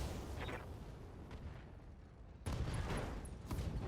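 Mech weapons firing in Battletech: a quiet rumbling battle bed, then a sudden loud salvo of heavy booming shots near the end, continuing in a sustained barrage.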